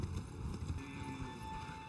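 Rapid clip-clop of horse hooves in a video game, a quick steady trot of close, crisp hoofbeats with no voices.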